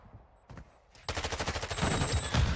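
A couple of isolated shots give way to a rapid, loud burst of automatic fire in the online shooter Cellium, rattling close and continuous to the end.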